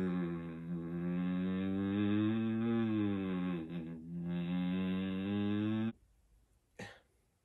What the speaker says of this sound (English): it uses a certain soundtrack, like noise, that is meant to make humans feel uneasy